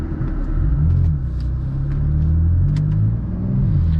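A BMW M4 rumbles close and loud as it drifts around a track in Korea, its engine droning with a steady low roar and slight rises in revs, heard from inside the car.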